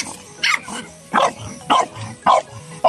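A stray dog barking outdoors, five sharp, loud barks at roughly half-second to one-second intervals, close by, with quiet gaps between and no talking.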